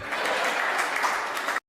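Audience at a Hindi comedy poetry show (kavi sammelan) bursts into steady applause, a dense, even wash of clapping for about a second and a half before cutting off sharply.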